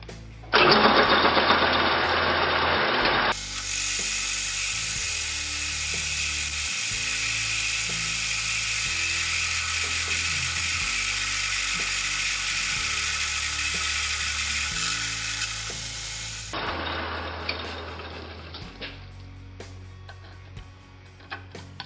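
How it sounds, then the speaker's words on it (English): Metal lathe taking a cutting pass on a trailer tongue jack, a sustained high whining cut with steady motor hum, bracketed by brief noisier startup and wind-down segments, close and loud. "I'm going to advance the tool, take another pass, and we will see where we are from there"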